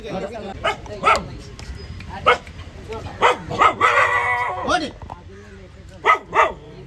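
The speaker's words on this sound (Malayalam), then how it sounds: "അതിനകത്ത് നിറച്ച് പട്ടിയാണ് വീടിനകത്ത് നിറച്ച് പട്ടി" Several dogs bark from inside a house during an eviction drive at a municipal office area, sharp yaps and barks recurring in short bursts over a busy background with people talking nearby.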